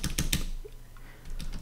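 Arrow keys are tapped on a computer keyboard in the Vim editor: three quick, close clicks, then a pause and a few softer taps, with no talking.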